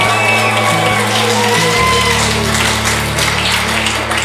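Wedding guests at Foxtail Barns cheer and whoop for the bride, a loud, sustained crowd roar with shouts riding over steady background music.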